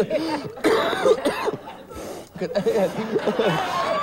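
Several loud, close coughs in quick bursts, mixed with chuckling and laughter.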